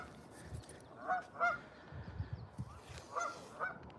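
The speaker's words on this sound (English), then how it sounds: "We'll listen to the honkers honking away." Geese honking outdoors on a Sunday morning dog walk, several moderately distant honks in uneven bursts over a soft ambient background, with no talking.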